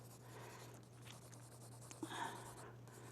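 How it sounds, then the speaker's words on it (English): Pencil lead shading in an area of a drawing on paper, a faint continuous scratchy rubbing with a steady low hum behind it and a slightly louder stroke near the end. "So I want to color this in, and I'm doing it with my lead of my pencil."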